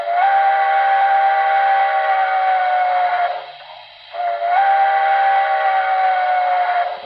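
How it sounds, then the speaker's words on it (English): Steam whistle of a Great Northern Consolidation model train with Paragon 4 sound, two loud sustained blasts split by a short pause, heard close and clear with nothing else under it. "Alright, let's take a look at the whistle."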